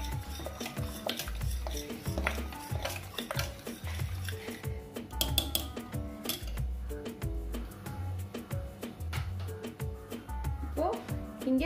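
A spoon scrapes and clinks against a pot while nonbu kanji, a rice porridge, is stirred, with steady rhythmic strokes running beneath louder background music.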